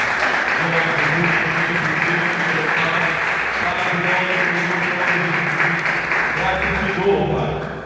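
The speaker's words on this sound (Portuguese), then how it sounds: "que você possa aplaudir ao Senhor" Church congregation applauding, a steady blanket of clapping with faint voices and background music beneath, fading slightly at the end.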